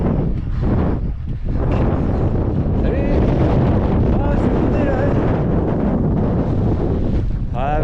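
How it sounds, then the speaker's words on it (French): Wind gusting on a mountain ridge during an electric mountain bike ride, loud buffeting rumble across the microphone throughout, with a rider's voice faintly mixed in. "Ah, il y a un peu de vent là."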